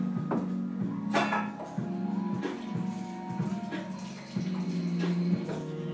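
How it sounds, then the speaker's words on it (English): Tap water runs steadily into a kitchen sink while hands are washed, a continuous splashing flow broken by brief surges and shifts as the hands move under the stream. "Wash them hands. Keep them hands washed."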